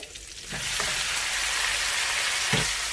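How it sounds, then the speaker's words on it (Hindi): Boiled beef frying in oil in a pot, a loud steady sizzle that swells as the meat goes in, with a couple of stirring scrapes and no talking. "4 से 5 मिनट हम इसे इसी ऑयल में फ्राई करेंगे।"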